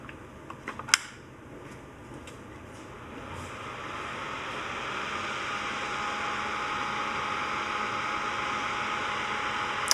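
A small fume extractor fan runs during surface-mount soldering of a Boldport Binco kit, its steady airy whoosh swelling after a few sharp clicks at the start and then holding constant.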